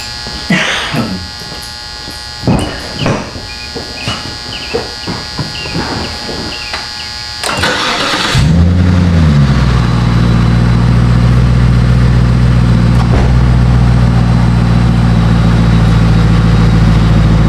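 Cadillac STS engine, after a performance PCM install: clicks and handling noises first, then the starter cranks briefly, the engine catches with a rising rev and settles into a loud, steady idle hum.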